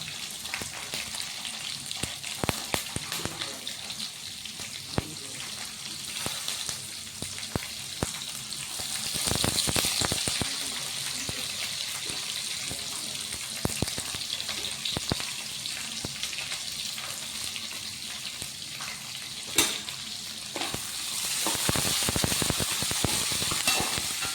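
Onions, curry leaves and green chillies fry in a pan with a steady, close hiss of sizzling oil and occasional sharp pops and stirring scrapes that swell louder near the middle and end, with no voices.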